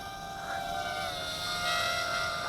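A JXD T503 toy quadcopter drone hovers close by with a steady, high whining buzz of small propellers and motors, rising slightly in pitch as it flies, with no talking.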